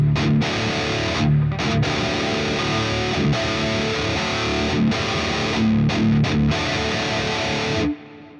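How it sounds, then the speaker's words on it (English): A low-gain distorted electric guitar through a Quad Cortex plays strummed chords with a shimmering chorus effect. The chords stop and start in short phrases, then ring out at the end. "Here's my low gain with distortion and a bit of chorus."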